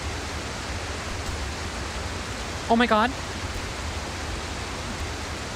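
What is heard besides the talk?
waterfall rushing in a climbing video game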